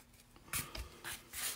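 Clay being cut away along the edge of a wooden riser, giving a few soft scraping and slicing strokes in short bursts, close and quiet.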